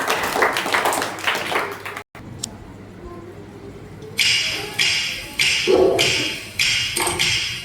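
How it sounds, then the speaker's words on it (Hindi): A few short bursts of clapping from a crowd at an Independence Day celebration, broken and uneven rather than sustained, after a quieter stretch of room noise. "इनके लिए जोरदार तालियां हो जाए।"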